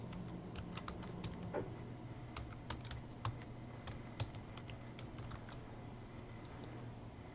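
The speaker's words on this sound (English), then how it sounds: "now I'm going to type in my ECE Teaching Lab Linux platform" Password typed on a computer keyboard while connecting to an ECE Teaching Lab Linux platform: irregular, fairly quiet key clicks scattered across several seconds, with no voices.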